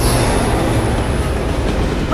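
A moving train in an animated series rumbles steadily and loudly throughout, a dense continuous roar of rail noise with no voices.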